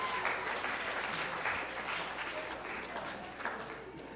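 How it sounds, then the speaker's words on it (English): Audience applause for an executive producer at a student media awards ceremony, a steady wash of many hands clapping at moderate loudness throughout, with a faint voice underneath. "A round of applause for Carlin"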